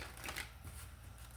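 Tarot cards are shuffled briefly in a short, soft riffle of papery flicks heard close and faint, with no talking.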